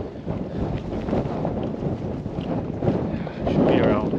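Wind gusts across the open Cheviot Hills in Northumberland, a continuous buffeting roar on the microphone that swells louder toward the end.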